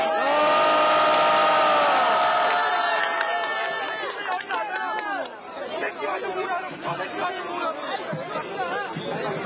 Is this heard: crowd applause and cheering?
yes